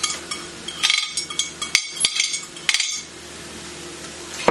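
Vegetables go into a pan of ground chicken for sloppy joes, with close clinks and scrapes of a utensil against the pan in uneven bursts, then a quieter stretch.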